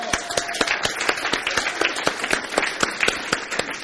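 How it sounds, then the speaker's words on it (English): An audience gives a round of applause at a cutting demonstration, with steady, close, dense clapping that carries on throughout without pause. "Round of applause."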